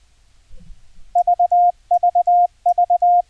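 A Morse code CW keyer's pure steady tone is picked up by an EMF coil on the keyer speaker, sounding three identical groups of three short beeps and one long beep, clean and loud over near silence.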